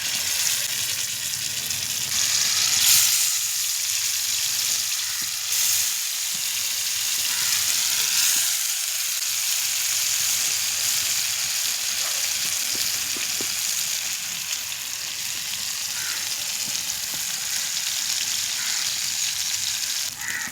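Marinated fish frying in hot coconut oil, a loud continuous close crackle and hiss that holds steady throughout with no talking.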